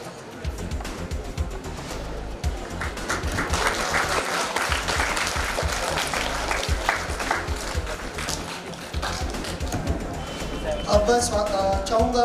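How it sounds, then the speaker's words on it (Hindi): Applause from an audience at a welcome ceremony during a state school chess championship, dense steady clapping sustained throughout with some voices mixed in. "तालियां"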